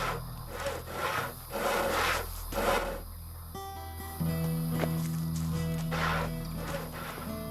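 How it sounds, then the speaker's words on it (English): Wood being sawn by hand in Risen, a run of rhythmic rasping strokes, close and moderately loud, then giving way to a steady tonal hum in the last few seconds, no voices. "He's sawing wood for Brogar's fire."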